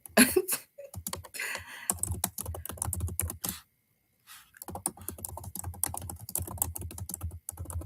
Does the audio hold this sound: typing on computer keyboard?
yes